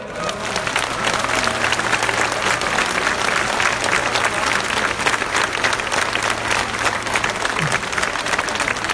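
Sustained crowd applause for the medics at an outdoor rally on Poznań's Plac Wolności defending court independence, a dense, even roar of many hands clapping steadily for the whole stretch, with a low steady hum underneath.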